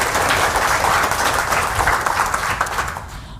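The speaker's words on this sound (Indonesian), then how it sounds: "Tepuk tangan buat kita semua dong Bapak sekalian ya" An audience at an indoor health product seminar in Indonesia applauds, a dense steady wash of many hands clapping at once, loud and close, fading slightly at the end.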